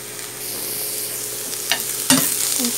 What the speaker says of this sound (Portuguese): Em torno aí de uns 3 minutinhos fritando, dando uma mexidinha.